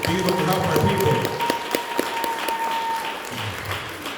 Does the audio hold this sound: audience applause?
yes